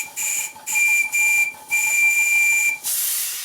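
A model traction engine's steam whistle blown with compressed air, four loud shrill blasts of varying length with breathy hiss, ending in a rush of escaping air.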